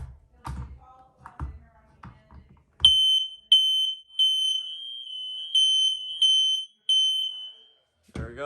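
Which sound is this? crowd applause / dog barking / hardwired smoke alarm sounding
hardwired smoke alarm sounding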